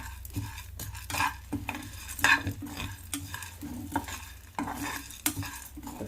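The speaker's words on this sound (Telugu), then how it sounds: "దోరగా వేయించుకోవాలి, బాగా ఎర్రగా రావాలి" Urad dal and chana dal are dry-roasted in a pan, with close, brisk stirring strokes that scrape and rattle the lentils in uneven bursts. A soft background hiss runs underneath, and no one speaks.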